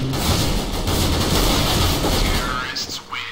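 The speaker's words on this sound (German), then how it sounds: "Dieser Runde wurden 172 Schüsse abgefeuert." Dense rapid gunfire from the video game Counter-Strike, loud overlapping bursts and booms that thin out near the end into a faint in-game voice.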